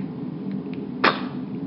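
A single short sneeze from a baby, a quick sharp burst near the end, close and quiet in an otherwise hushed room.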